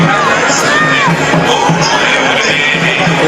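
A dense, loud festival crowd at a Durga Puja pandal in Allahabad, with a steady wash of chatter, shouting and cheering voices all around and no single voice standing out.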